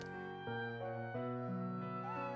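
A cat meows in the Professor Layton vs Phoenix Wright video game, a few short tonal mews layered over sustained game music that plays steadily throughout.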